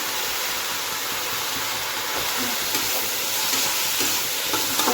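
Potatoes for a spicy fried dish sizzle and crackle steadily in a pan with hot oil, a close, continuous frying hiss with light stirring.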